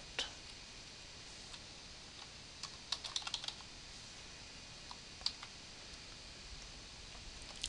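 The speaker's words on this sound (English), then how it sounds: "let's go ahead and type it out." A computer keyboard is typed on while entering programming code. The keystrokes are faint, sparse clicks with a brief quick cluster partway through, over a low, quiet background hiss.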